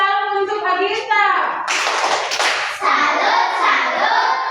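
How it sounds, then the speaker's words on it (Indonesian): A classroom of students applauding a student named Agista, a burst of mixed clapping following a voice speaking, with chatter continuing under the applause. "Kita tepuk tangan untuk Agista."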